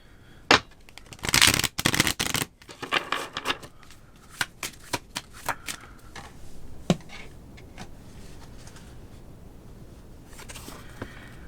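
Tarot cards are shuffled by hand, with a loud riffling burst near the start followed by a string of distinct snaps and taps as cards are split and squared, then quieter handling.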